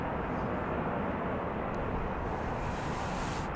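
A Boeing 737 MAX 8 airliner arrives at Dallas Love Field at night, heard as a loud, continuous jet roar with a broad rushing hiss that stays constant throughout.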